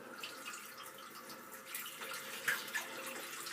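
Water runs from a tap onto a shaving brush for a straight-razor shave, a faint, steady trickle with a couple of small splashes and drips.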